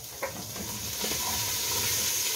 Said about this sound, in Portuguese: Minha cebola e minha linguiça já fritou